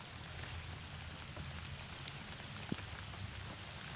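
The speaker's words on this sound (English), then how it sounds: "I apologize for the rain." Steady rain falling on a boat during a crappie fishing trip, a continuous soft hiss of drops with one brief sharper tap near the end, fairly faint.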